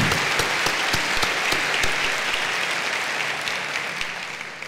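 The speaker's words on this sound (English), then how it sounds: "Give yourself an applause one more time." Sustained applause from a faculty audience at a school district back-to-school celebration, dense clapping throughout that fades slightly toward the end.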